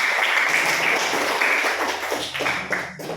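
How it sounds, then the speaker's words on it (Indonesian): Classroom applause, a dense patter of many hands clapping together, fairly loud and steady before thinning into scattered claps with faint voices underneath toward the end. "Ya, berikan aplaus."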